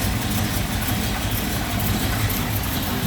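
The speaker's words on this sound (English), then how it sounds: "Very nice and tidy, smooth running engine." A 1964 Chevrolet Bel Air's 350 engine idles smoothly, a steady close-up low rumble that holds even throughout with no talk over it.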